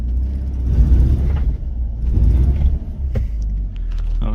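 An abandoned BMW E36, sitting without front wheels, runs after starting on the first try. Its engine gives a low, steady rumble with slight surges, close by and alone.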